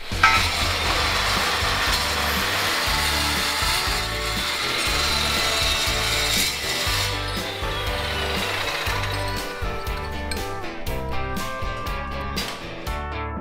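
Loud, continuous grinding and cutting of steel C-channel pieces with a power tool, harsh and steady, with a burst of rattling clatter toward the end.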